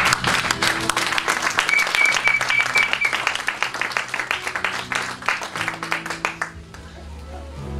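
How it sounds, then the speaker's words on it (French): A church congregation applauds the Lord, with loud sustained clapping and cheering that carries on throughout, a voice rising briefly above it, then thinning out as the applause fades at the end. "On acclame le Seigneur."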